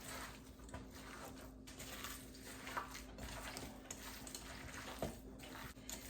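A ground meat loaf mixture seasoned with sage is worked by hand or spoon in a bowl, giving faint, continuous squishing and scraping with soft irregular knocks, close and quiet throughout.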